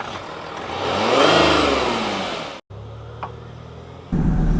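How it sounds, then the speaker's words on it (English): A 2012 Range Rover Sport HSE Red Edition 4x4 pulls away and accelerates, its engine note rising and swelling loudly before a brief cut, then settling into a quieter steady drone. "Let's go and see how it drives on the road"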